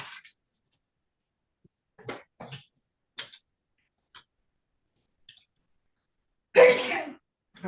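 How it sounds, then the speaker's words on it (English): A single loud sneeze bursts out near the end of a mostly quiet stretch in a courtroom clerk's meeting room, preceded by faint scattered clicks and small noises. "I heard the sneeze."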